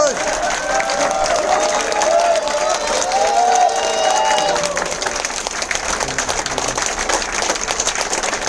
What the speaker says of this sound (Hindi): सो एक बार जबरदस्त तालियों के बीच में मैं इनवाइट करूंगा